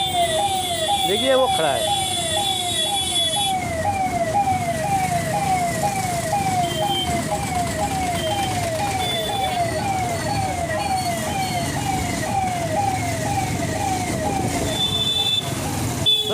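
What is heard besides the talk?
ambulance siren in traffic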